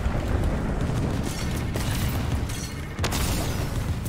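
Loud, sustained booming blasts of a tank explosion in the Fortnite video game, a dense rumbling roar with a sharp burst near the end and no talk over it.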